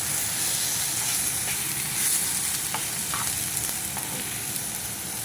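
Lentils dry-frying together in a pan for vegetarian khichuri, a steady close hissing sizzle with faint scraping stirs throughout.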